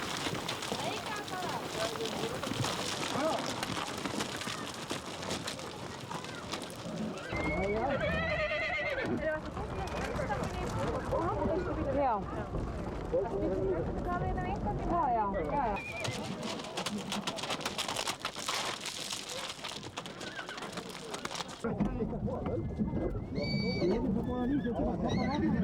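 Horses whinny and neigh repeatedly, with hooves clattering, at an Icelandic horse round-up in a stone sorting pen crowded with wild horses and foals. The chorus stays loud and busy throughout, with people talking over it.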